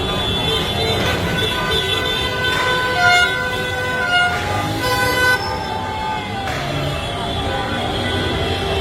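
Car horns honk repeatedly in jammed street traffic during a celebration of Italy's Euro football win, overlapping toots and long blasts forming a loud, continuous din with engine noise beneath.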